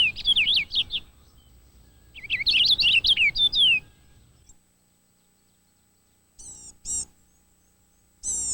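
Purple finches chirp at a backyard feeder in winter, giving two bursts of quick, bright twittering. A quiet pause follows, then a few sharp single calls close by.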